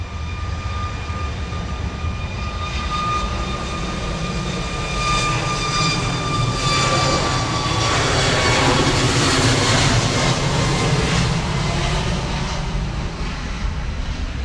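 A Cayman Airways airliner taking off from Grand Cayman's airport, a loud sustained jet engine roar with a whining tone early on that swells into a broad rumble, heard from the ground with no talk.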